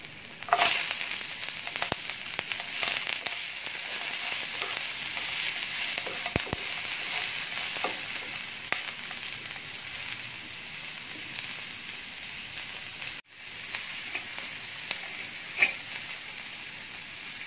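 Bell pepper frying in a pan for a healthy breakfast dish alongside softened onion, giving a steady, fairly loud sizzle throughout with small crackles and stirring clicks.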